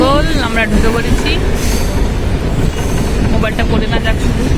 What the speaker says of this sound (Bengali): আমরা এখন ফাইনালি ট্রেনে উঠে পড়েছি, যাচ্ছি